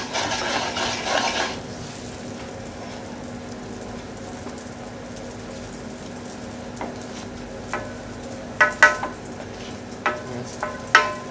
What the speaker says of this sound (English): Give the first couple of additions of stock a good vigorous stir.